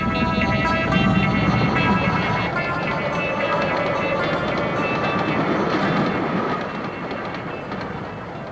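A British Railways train, a Class 33 diesel with the steam locomotive Blackmore Vale following, rumbles past in a steady, loud roar of wheels and engine that fades slightly toward the end.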